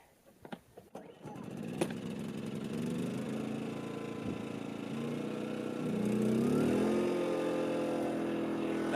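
A small engine on a KLR motorbike fires up after being choked and settles into a continuous running drone that grows slightly louder and rougher toward the end, following a few clunks at the start.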